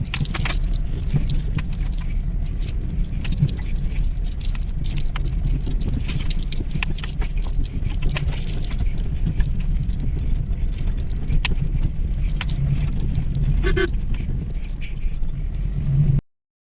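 A farm vehicle runs steadily on its way to a friend's shop, with a continuous loud low engine rumble and road noise throughout and a few light rattles and clanks on top.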